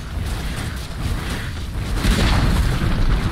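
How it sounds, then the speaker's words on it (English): A structure crumbles in Dota 2 as a tower is destroyed, giving a deep rumbling boom with debris noise that swells toward the end and stays loud and continuous throughout. "Dire's top tower has fallen."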